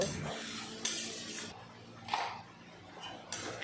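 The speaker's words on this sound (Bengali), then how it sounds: "এই তেলের ভিতরে দিয়ে দেবো পেস্ট করা টমেটো আর পেঁয়াজ তেলের সাথে ভালো করে নাড়িয়ে মিশিয়ে নেব" A spoon scrapes and stirs tomato and onion paste frying in hot oil in a pan, with soft rhythmic scraping strokes recurring every second or so, quiet and close.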